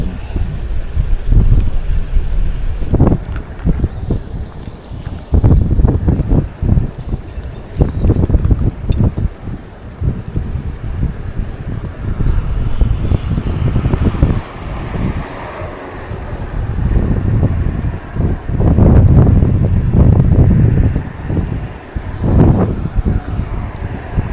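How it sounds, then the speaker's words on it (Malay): Strong wind at sea buffets the microphone on a fishing trip by boat, with loud irregular gusting rumbles and bursts that rise and fall throughout, nearly continuous, with waves faintly underneath and no talk. "Ni tak boleh angin kuat nak."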